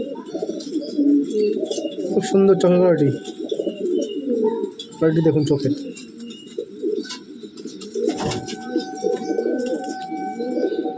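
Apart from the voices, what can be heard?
Lalbon pigeon cooing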